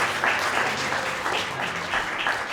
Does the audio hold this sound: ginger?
no